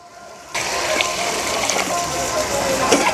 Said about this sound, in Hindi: देखिए पानी डाल दिए हैं दोस्तों।